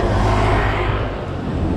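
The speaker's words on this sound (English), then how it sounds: "The motorbikes, the traffic don't stop for no one." Road traffic in Nha Trang, Vietnam, with motorbikes and cars streaming past: a steady, dense roar of engines close by, continuous with no pauses.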